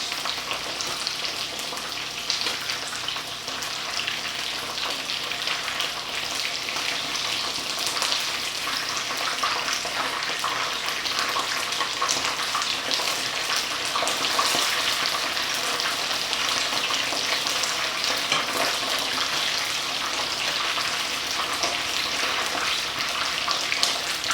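Korean fried chicken browning in a pan, a steady, dense sizzle and crackle of hot oil holding evenly close by for the whole stretch, with no voices over it.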